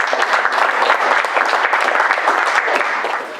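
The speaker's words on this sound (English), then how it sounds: "Debbie did the cover though, so she deserves a applause for that" Audience applause at a beat poetry festival reading, loud and close, with dense sustained clapping that carries on steadily and fades slightly at the end.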